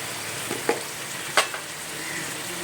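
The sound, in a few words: cumin powder frying and being stirred in a pan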